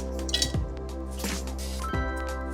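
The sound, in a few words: whole spices added to hot wok for tripe fry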